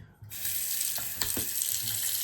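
Water runs steadily from a newly repaired sink faucet, a continuous close hiss of flow filling the basin with a few small splashes, heard alone without talk.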